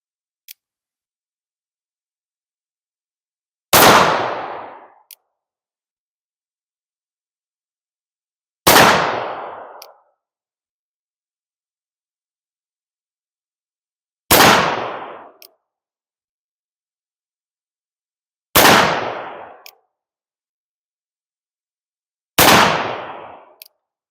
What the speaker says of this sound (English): So I'm going to fire 6 rounds using the Bisbee stance from 50 feet at this same target.